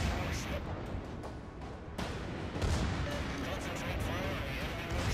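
Battleship main guns firing in World of Warships from a North Carolina, loud dense booming blasts and rumbling gunfire continuing throughout, a sharper heavy report near the two-second mark.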